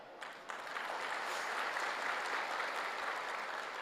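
An audience breaks into applause, a dense, even crackle of many hands clapping that swells in quickly and holds steady at moderate volume with no voices over it.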